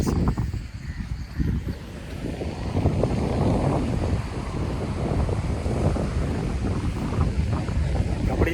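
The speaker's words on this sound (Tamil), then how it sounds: "அலை ரொம்ப அதிகமாக இருக்குது." Sea waves break and wash in steadily at Marina Beach, Chennai, heard close with a continuous roar and heavy wind buffeting the microphone.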